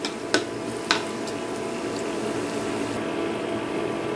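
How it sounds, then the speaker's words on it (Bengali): Garlic fries in oil in a pan as a steady, soft sizzle, with two sharp utensil clicks near the start and no voices. "এখন রসুনটাকে আমি এই তেলের সাথে একটু ভালো করে ভেজে নেব"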